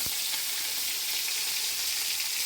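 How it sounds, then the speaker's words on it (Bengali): Dried loitta fish (shutki) fries in hot oil with a dense, even sizzle and crackle that stays steady and close throughout, with no voices. "আগে আমি সুটকিগুলো ভেজে নেব"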